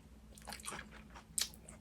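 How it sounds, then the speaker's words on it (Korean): Bites into crispy fried chicken coated in jajang (black bean) sauce, a few soft crunchy chews building to one sharp loud crackling crunch near the end, close and quiet with no talk. "되게 바삭바삭한데 치킨, 그 치킨에 그 짜장 소스가 묻어 있잖아요."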